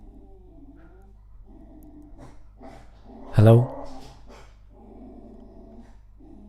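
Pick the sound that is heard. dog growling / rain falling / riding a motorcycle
dog growling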